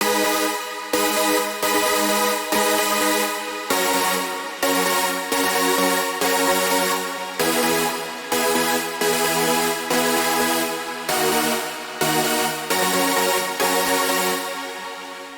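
A loud, bright chord synth from a big room dance track pumps in rhythmic stabs that follow the lead's rhythm, each chord swelling and ducking in steady repeated pulses, with no voices.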